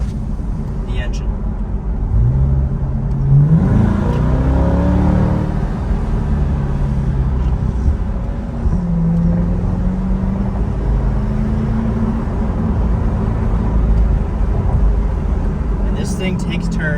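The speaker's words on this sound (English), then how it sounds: "I'll shut up for a sec so you can hear the engine." A 2023 C8 Corvette Stingray's engine drones loud and steady from inside the cabin, with one rise in revs as it pulls away through a neighborhood, then holding a low, even rumble.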